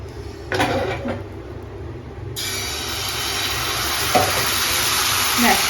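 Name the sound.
thin pitha batter poured into a hot pan, sizzling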